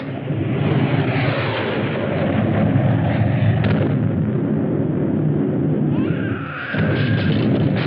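Sci-fi bombardment with weapons firing in an attack sequence: a sustained, loud rumbling barrage of blasts and booming detonations, with a rising electronic whine near the end and no talk.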